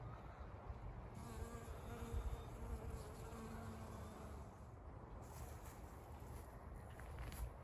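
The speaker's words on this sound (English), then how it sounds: "There's a neat looking bee." A bee buzzes steadily among sunflowers in a summer garden, a close, continuous drone with slight pitch wobble over soft outdoor ambience.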